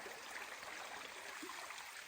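A mountain stream flows along the Appalachian Trail, a faint, steady babbling and trickle heard from a short distance with no voices over it.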